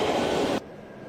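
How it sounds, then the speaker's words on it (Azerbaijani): Loud, broadband rumble of a metro train at 28 May station in Baku that cuts off abruptly partway through, leaving a quieter station hum. "Artıq biz 28 may metro stansiyasındayıq"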